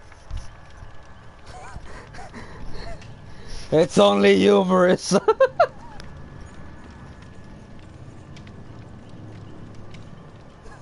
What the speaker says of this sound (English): There's a horse outside.